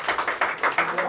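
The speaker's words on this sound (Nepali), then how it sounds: "तपाईँहरू सबैले ताली बजाएर अभिनन्दन गरिदिनुहोस्" A small group claps in a brief, quick burst of several close, fairly soft claps to welcome a guest at a gathering.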